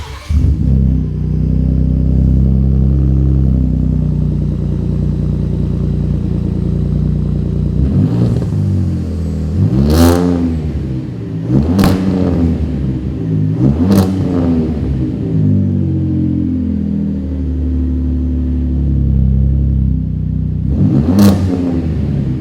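A Ford F-150 Raptor with a MagnaFlow 3-inch dual split rear exit cat-back exhaust and black 5-inch tips holds a deep idle, then barks through four sharp, loud revs in quick succession and a final rev after a pause.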